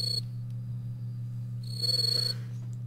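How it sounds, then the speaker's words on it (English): Loud crickets chirp in the video game Record of Agarest War Zero, with shrill high bursts at the start and again near the end over a steady low drone. "Seriously, why are those crickets so loud?"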